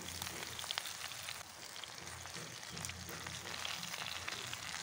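Jujube plums (boroi) dropped into hot mustard oil with dry chillies and five-spice in a pan, giving a steady, close, even sizzle and crackle that runs throughout with no voices.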